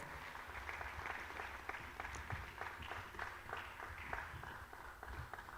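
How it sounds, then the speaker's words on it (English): Conference audience applauds at a scientific conference opening, a fairly faint, sustained patter of many hands clapping in a hall. "Please, let's welcome him with a round of applause."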